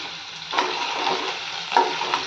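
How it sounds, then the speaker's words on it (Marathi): Potatoes and whole peanuts fry in a pan for sabudana khichdi, giving a steady close sizzle with a couple of louder stirring scrapes and no talk. "बटाटा व्यवस्थित भाजून घेऊयात"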